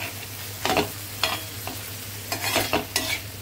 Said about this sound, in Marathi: तरी बघा, इथे आपण कोलंबी ही शिजून घेते